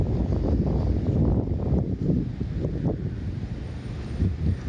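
Wind buffets the microphone while someone walks along a beach in Orange County, California, a constant low rumbling gust with uneven surges and faint surf beneath.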